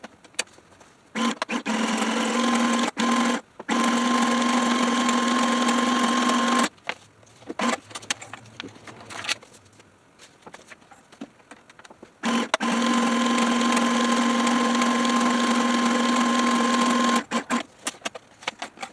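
A sewing machine stitches ribbon onto journal pages in long steady buzzing runs with a clear motor whine. It stops for short pauses between runs, and no talk is heard over it.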